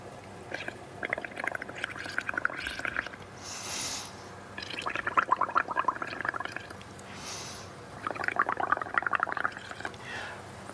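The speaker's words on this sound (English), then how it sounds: "And then we are going to blow bubbles." Air blown through a straw into a cup of paint, water and soap makes three bursts of wet bubbling gurgles, fairly close, separated by short pauses.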